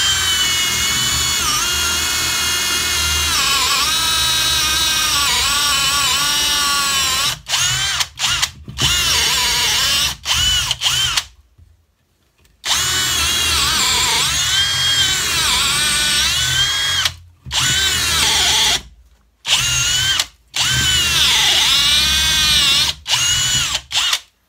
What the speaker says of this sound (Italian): Proviamo a fare un foro più semplice, sempre con la punta in dotazione da 10 mm.